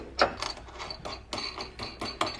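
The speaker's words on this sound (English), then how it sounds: "and then put the nut on." A nut being threaded onto a bolt while fitting a side bar to a VW Transporter T5/T6, heard as a series of close, light metallic clicks and taps spaced irregularly across the moment, with no talking.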